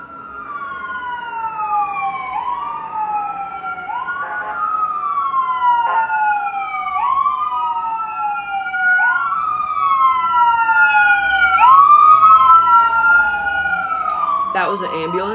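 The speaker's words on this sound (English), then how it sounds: "That was an ambulance." An ambulance siren wails in repeated rising and falling sweeps, loud and close, growing stronger as it passes with a faint road rumble underneath, and talking mixed in.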